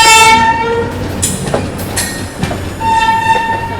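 Express passenger train running on the Kolkata to Jodhpur route, with steady rumbling wagons and clattering rails, a sustained horn blaring at the start and again near the end, loud and continuous with no talking.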